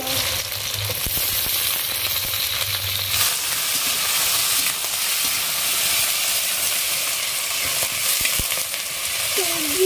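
Cut potatoes fry with onion and chili in hot oil, a loud continuous sizzle and hiss up close, broken by scraping stirring strokes against the pan and no voices.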